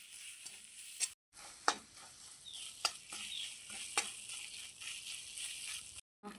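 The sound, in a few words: gram flour (besan) being stirred and roasted in a pan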